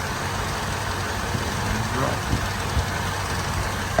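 A 2010 Toyota Sequoia engine idles after a coolant leak repair, having run for about thirty minutes. It makes a low, steady, even hum at modest volume, with a few faint knocks over the continuous drone.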